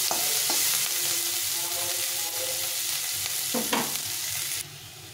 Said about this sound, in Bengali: একটু লাল লাল করে পেঁয়াজটাকে ভেজে নিতে হবে